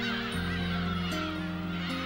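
Seagulls call on Bird Island in a loud, close chorus of honking, harmonic cries that overlap continuously with no talk.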